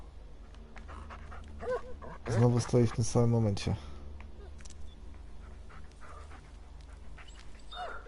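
A dog in the Blair Witch video game pants and whimpers softly beneath a player's speech, with a low rumbling ambience throughout.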